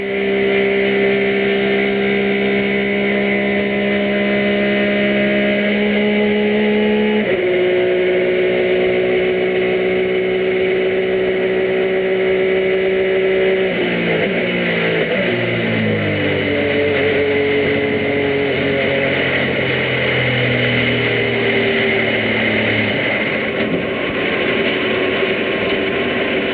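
A race car engine heard onboard during a 2003 Rolex 24 endurance race replay, droning loud and steady before its pitch steps down in stages and sags lower as the revs fall away, with no talk over it.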